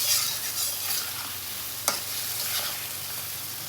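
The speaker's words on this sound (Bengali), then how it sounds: "একটু মশলাটা ভালোভাবে কষানো হোক।" Spices with green chili and salt are stirred and fried in a pan with potatoes, a soft steady sizzle with faint scraping and one brief clink, quiet and close.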